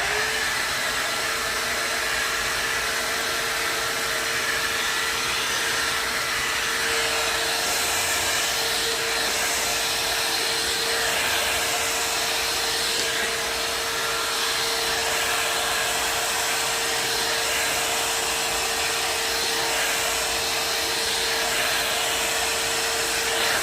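A hair dryer blows steadily and loudly throughout while natural hair is blow-dried, a constant whooshing roar with a fixed motor whine and no pauses.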